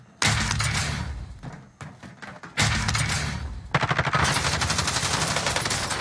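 Rapid bursts of automatic gunfire from a video game shootout, loud and close, with short pauses between volleys and a sustained stuttering stretch at the end.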